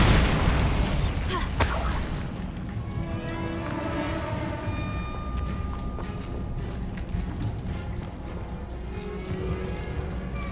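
A Bombarda blast spell in Hogwarts Legacy erupts with a loud burst at the start, then fades into a long rumbling decay beneath steady tonal game music.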